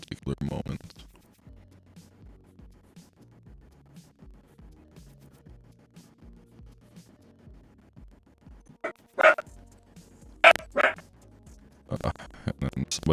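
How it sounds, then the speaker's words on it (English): A dog in a house lets out a few sharp, loud barks in quick succession after a quiet stretch of faint rustling and scratching, with more yips and noises trailing at the end. "they feel the need to start barking"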